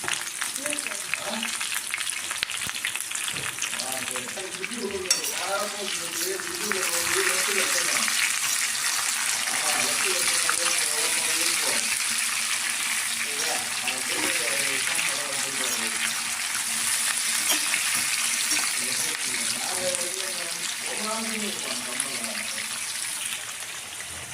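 Onion, garlic, ginger and tomato fry in a pan with a constant, loud sizzle, while a voice talks quietly underneath throughout.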